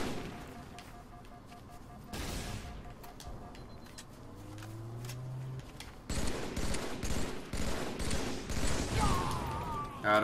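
Gunfire in a Halo 3 multiplayer match on a big open map, with scattered shots and bursts that grow denser and louder in the second half amid other game effects.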